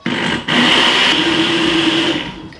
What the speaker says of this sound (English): So I'm just going to blend all of this mixture in my blender to get a smooth puree.